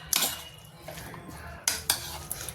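A spoon clinks and scrapes against a bowl while cumin powder is mixed into a garlicky flat-bean chutney, a few sharp close knocks separated by soft stirring.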